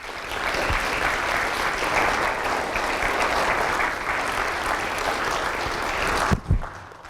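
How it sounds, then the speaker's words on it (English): Sustained audience applause at a university's annual state-of-the-university address, a dense, steady wash of clapping that holds for about six seconds before cutting off abruptly. "Let's give everyone a wonderful hand of applause for what we achieved this past year."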